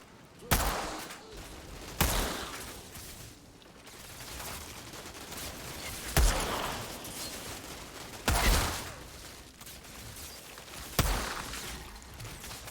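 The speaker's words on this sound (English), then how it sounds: "Now I will go into do some sniping." Five sharp, loud sniper rifle shots from the video game Outriders crack out at uneven intervals, each standing alone over a low, steady bed of game ambience.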